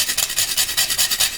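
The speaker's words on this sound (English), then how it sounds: "I'm going to go ahead and grate in" Nutmeg rasps quickly over a grater for a flour porridge, a rapid, even run of about eight close scraping strokes.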